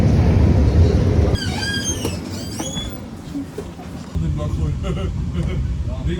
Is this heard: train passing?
yes